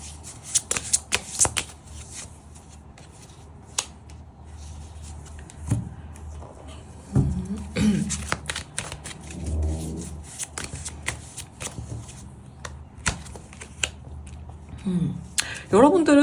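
Tarot cards being shuffled by hand: quick, papery riffles and soft taps that come in clustered bursts, close and crisp, with a voice talking briefly partway through.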